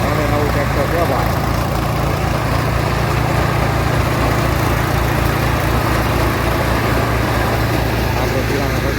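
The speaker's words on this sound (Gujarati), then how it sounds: "હવે નવું ટ્રેક્ટર કહેવાય।" Close, continuous chugging of a new farm tractor's engine holds at an even level for several seconds, a steady mechanical drone with some voice underneath.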